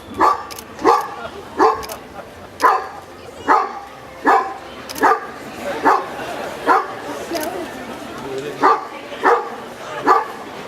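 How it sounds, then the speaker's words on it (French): A dog barks repeatedly in a steady rhythm, about a dozen sharp barks close by, with brief pauses between them. "et là, aboie. Aboie."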